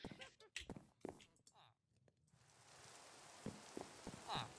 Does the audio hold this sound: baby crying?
no